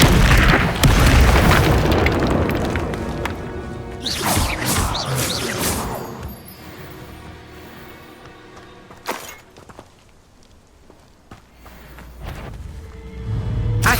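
Incendio fire spells burst out in Hogwarts Legacy as loud booming blasts, with a dense flurry of explosive hits over the first six seconds, then scattered sharp bangs against a quieter spell-combat background.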